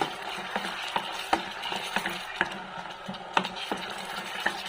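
Sardines being stirred into bok choy in a pan, with repeated clinks and scrapes of a utensil over a soft, steady sizzle, up close.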